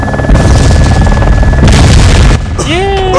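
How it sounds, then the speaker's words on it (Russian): A heavy booming blast rolls out in the Arma 2 DayZ mod, loud and close with sustained rumbling that fades, followed by a brief lull and shrill whistling tones. "Зато он взорвался."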